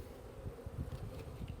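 Honey bees on a hive clearing board buzz in a faint, continuous hum with slight fluctuations, heard up close without talk.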